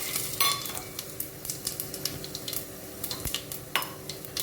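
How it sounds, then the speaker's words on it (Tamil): Cinnamon, cloves, fennel and bay leaf frying in hot oil for prawn dum biryani, a close, steady crackling sizzle with sharp pops and spoon clinks against the pan, with no talk. "இப்போ நம்ம எடுத்து வச்சுருக்கிற இந்த பட்டை, கிராம்பு, சோம்பு அதை உள்ளே போட்டுக்கலாம்"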